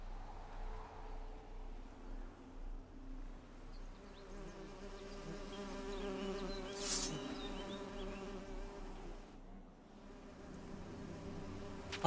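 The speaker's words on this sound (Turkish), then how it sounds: "the bees buzzing" Bees buzzing in the video game Witcher 3: Hearts of Stone, a steady droning hum that carries throughout at moderate loudness against faint background ambience.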